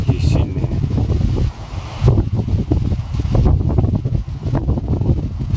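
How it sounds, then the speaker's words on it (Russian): Strong wind gusts buffet the microphone on the summit of Stolby mountain in the Southern Urals, a loud, continuous roar that surges and dips across the whole stretch. "Лишь бы ветер не мешал. Порывы такие сильные."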